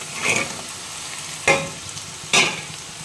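Paneer fries in oily masala under a steady close sizzle, with three distinct stirring scrapes of the spoon through the pan, each a sharp rasp standing out above the hiss.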